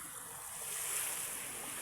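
Rough sea waves wash in a steady broadband roar with wind buffeting the microphone, the surf swelling slightly and then holding for a couple of seconds.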